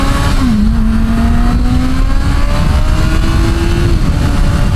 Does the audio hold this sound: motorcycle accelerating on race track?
yes